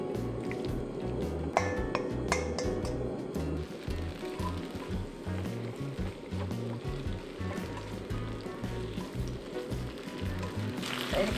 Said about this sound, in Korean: 이렇게 좀 볶아주세요